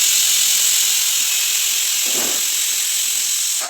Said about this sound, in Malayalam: ഇനി കുക്കർ മൂടി വെച്ചിട്ട് ഒരു വിസിലാണ് അടിക്കേണ്ടത്.